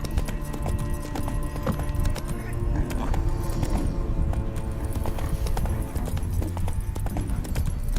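A horse trots in The Witcher, its hooves clip-clopping in a quick, steady rhythm up close, with faint jangling tack and brief talk over it.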